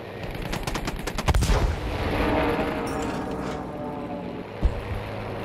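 Gunfire in the Battlefield V shooter game, with a rapid burst of machine-gun shots at the start giving way to a rumbling din of distant firing and one sharper bang near the end, no talk.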